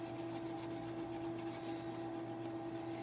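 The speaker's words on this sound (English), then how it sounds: "I am going to take a little paste scraper. This just helps me remove it a little bit faster. So I'm just going to scrape." A paste scraper drags wet chalk paste off a stencil on a canister. The scraping comes as a soft, continuous rubbing, close and fairly quiet, over a faint steady hum.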